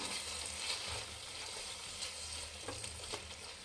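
Four beaten eggs frying in oil for egg rice give a faint, continuous sizzle with light stirring scrapes, quiet and without any talk.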